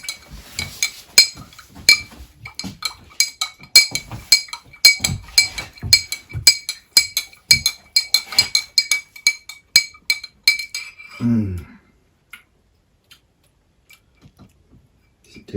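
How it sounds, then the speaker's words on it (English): Glass being clinked and tapped repeatedly by a playing child, a busy run of bright, irregular clinks close by for about eleven seconds, ending in a brief low thud and then near silence. "Jeremiah, please don't play with the glass there."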